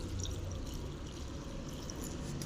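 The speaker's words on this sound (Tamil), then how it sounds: "இப்போது தண்ணி வந்து நம்ம தேவையான அளவு தண்ணி ஊற்றிங்க" Water poured into a cooking pot of mixed greens with salt, garlic, green chillies, tomato and tamarind, ready for a pressure cooker; a steady, continuous splashing pour heard close up without talk.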